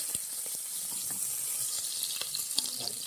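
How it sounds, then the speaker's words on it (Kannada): Chopped onion crackles and sizzles steadily in hot oil for a sambar tempering, a close, continuous frying hiss dotted with small pops. "ಇವಾಗ ಸಾರಿಗೆ ಒಂದು ಸ್ವಲ್ಪ ಈರುಳ್ಳಿ ಹಾಕಿದ್ರೆ ಆಯಿತು. ನೋಡಿ, ಪಟ ಅಂತಿದೆ ಚೆನ್ನಾಗಿ."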